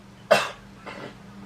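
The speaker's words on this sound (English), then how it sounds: "Bro cough like an iPad kid." A single sharp cough close to the mic, followed by a fainter, breathier second cough about half a second later.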